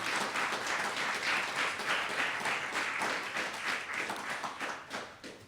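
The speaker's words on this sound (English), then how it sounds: "Please join me in a round of applause in recognition of Command Sergeant Major Auxier's remarkable service and dedication to the United States Army." Round of applause at a U.S. Army retirement ceremony at West Point for a command sergeant major, a sustained crowd clapping that holds steady before tapering off near the end.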